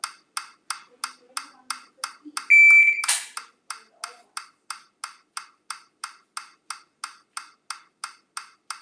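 During dry fire shooting practice, a shot timer gives one sharp sustained beep amid a steady series of evenly spaced electronic ticks, close and clear.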